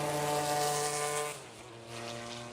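A Porsche club race car at Road America howls past with a high engine note that drops in pitch as it recedes, loud and close.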